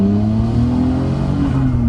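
A Nissan Skyline GT-R R34 with a titanium exhaust accelerates hard, its deep exhaust note rising steadily in pitch, loud and close, with no talking.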